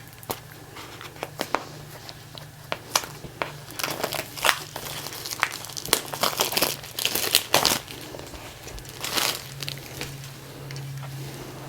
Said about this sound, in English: So here at last is the tarot deck itself. Let me get it out of the plastic.